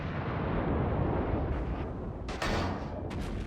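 Enemy warship's returning gunfire in World of Warships, a dense rumbling barrage of booming naval shell blasts with a sharper report midway, loud and continuous.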